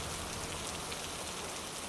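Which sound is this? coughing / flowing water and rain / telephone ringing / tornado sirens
flowing water and rain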